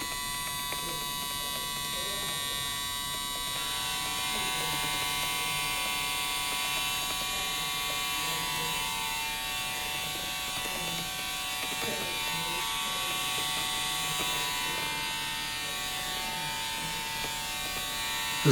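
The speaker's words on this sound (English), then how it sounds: "This is the Recon Series trimmer, the Recon Series trimmer." An Andis Recon Series hair trimmer runs steadily, a continuous close electric buzz with a smooth, even hum throughout, while a person talks over it.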